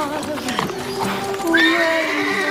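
A donkey brays once in a rising, strained call, loud and close, with hoof clops and voices around it.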